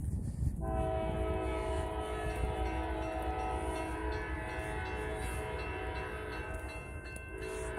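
A passing train in Locust Grove or McDonough, Georgia sounds a long, loud, sustained horn at night, starting after a brief rumble and holding steady over the rolling rail noise, with no talking.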